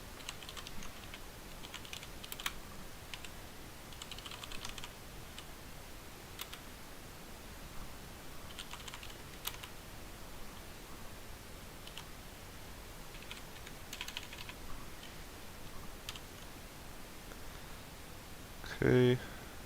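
Someone types steadily on a computer keyboard during a livestream, with quick clustered keystrokes and occasional louder taps near the mic lasting the whole stretch, and soft room noise underneath.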